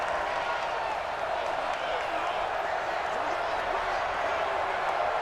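Steady, dense stadium crowd roar at Arrowhead in the Madden 20 NFL game, a broad continuous wash of noise holding evenly throughout with faint scattered claps and no letup.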